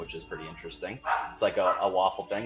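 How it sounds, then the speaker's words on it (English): Dogs bark somewhere in the room, partly masked beneath a person talking steadily throughout. "Sorry for the dogs barking"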